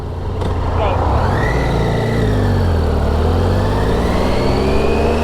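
A car sits stuck in traffic on a Devon road near Coombe Martin with the temperature gauge near maximum while its radiator cooling fan cuts in. A steady, loud engine and fan whir with a faint rising tone runs throughout.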